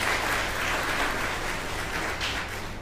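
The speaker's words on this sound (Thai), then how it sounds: "ปรบมือให้พลเอกอนันต์หน่อยครับ" An audience at a church sermon applauding, a dense patter of many hands clapping together, fairly close and steady for a few seconds before easing slightly.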